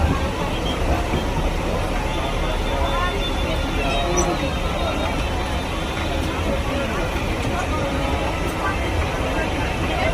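A passenger train at Katwa station sets off, a dense steady rumble with rattling carriage noise filling the whole stretch, with faint crowd murmur underneath.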